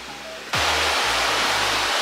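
Glacier-fed river below the Matterhorn rushing past a hotel in Zermatt, a sudden loud, dense, steady roar of water that fills everything once it begins, with a low hum in the background.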